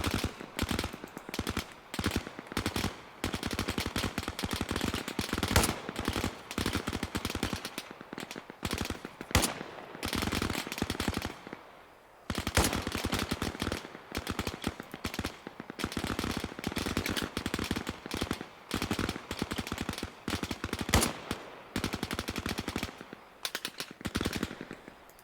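Sustained machine gun fire in the military shooter Arma Reforger, long loud bursts of rapid shots with only short pauses between them, no talking.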